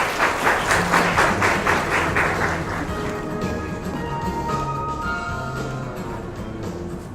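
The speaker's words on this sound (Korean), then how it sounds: "박수로 환영해 주세요." A conference audience at a blockchain keynote event applauds to welcome a speaker; loud, rhythmic clapping dominates the first few seconds, then fades to a softer, thinner patter under background music.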